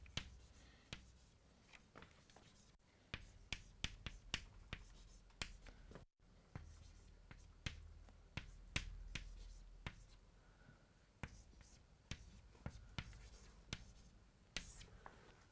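Chalk or pen writing out a 2 by 2 matrix by hand during a mathematics lecture on special relativity, heard as a steady series of sharp taps and scratching strokes with a brief pause midway, close and clear without talk.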